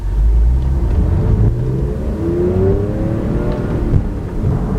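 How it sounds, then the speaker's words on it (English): A 2018 Audi R8 V10 Plus engine revs and climbs in pitch, a loud, close, continuous drone with rising tones and no voices over it. "And I got to test drive the Audi R8 V10 Plus."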